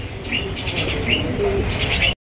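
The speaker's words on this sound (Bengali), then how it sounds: "বন্ধুরা এখানে রয়েছে কালোর মধ্যে ও ভাই সিরাজি কবুতর।" Sirazi pigeons, black-plumaged fancy birds in a loft, give several quick coos and chirps in a short loud burst, close up over a busy background of other birds before cutting off.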